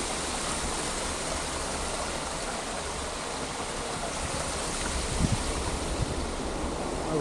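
A river in the Cherokee National Forest along the Rhododendron Trail in Tennessee, a steady broadband rush of flowing water heard from nearby, even and continuous with a faint thump or two near the end.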